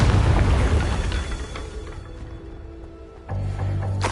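A Confringo blast spell from Hogwarts Legacy erupts as a loud, deep boom at the start, then its rumble fades into a lower tail before another heavy burst swells near the end.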